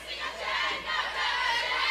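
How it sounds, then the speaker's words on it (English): Wright State supporters cheer and shout loudly at Western Bowl during a women's college bowling final, a continuous crowd roar filling the bowling alley without pause. "They have cheers, they have fans cheering."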